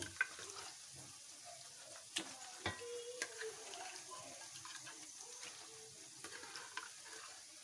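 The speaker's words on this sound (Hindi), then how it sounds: "अब इसमें मैं ये गोश्त ऐड कर देती हूँ जो हमने बनाया है" Mutton is tipped into spinach frying in oil, giving a faint, steady sizzle broken by a few sharp clinks and thumps of the pan, with no voices.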